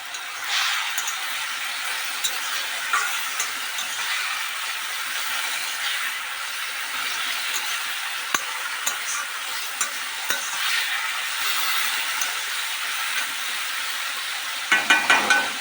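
Radish greens fry in a pan while being stirred, a steady close sizzle with scraping stir sounds and a few louder knocks near the end.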